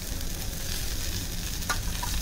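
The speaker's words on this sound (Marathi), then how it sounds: "ओले खोबरे पहिले भाजून घेणार आपण, नंतर सुके खोबरे लास्टला." Fresh coconut roasts in a pan with browned onion, ginger and coriander for a Kadaknath chicken curry masala, giving a steady, close sizzle with faint stirring scrapes.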